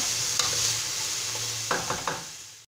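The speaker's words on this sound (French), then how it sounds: "On va faire suer l'oignon." Onion and garlic sweating in a frying pan, a steady soft sizzle close by, with a few sharp clicks of a utensil stirring against the pan near the end.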